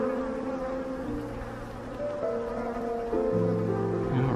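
Dense, steady buzzing of many honeybees up close inside a hive, a layered droning hum that swells slightly toward the end.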